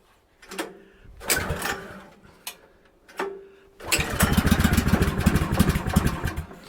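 A sawmill engine in snowy winter cold sputters through several short, uneven start attempts, then catches and runs loudly and steadily nearby, with no talk over it.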